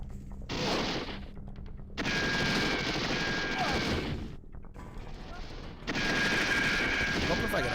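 Gunfire from the light-gun shooter Virtua Cop, loud bursts of rapid shots in three long volleys separated by short gaps, close and dominant, with a voice faintly underneath.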